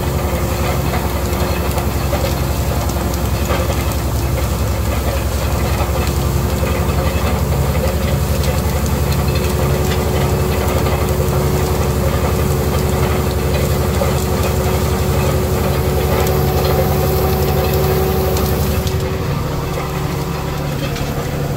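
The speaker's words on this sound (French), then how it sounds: "On va rouler ce couvert," Tractor rolling a frozen cover crop of sunflower stalks, with a loud, steady heavy diesel engine droning and rumbling throughout and a faint rattle of the roller. A brief change in tone comes near the end.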